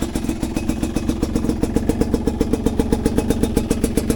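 A Chinese dirt bike engine idling after starting, a steady close-up rhythmic putter with regular thumping pulses and a slight mechanical clatter, no voices.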